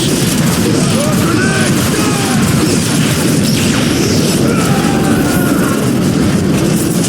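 Heavy artillery shelling in the Transformers: Fall of Cybertron video game, with loud continuous booming blasts and crashing debris over a dense rumbling battle din, with voices heard in the mix.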